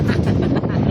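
Strong wind gusting against a camping tent, a loud continuous low rumbling roar with flapping buffets close to the microphone, with people talking under it.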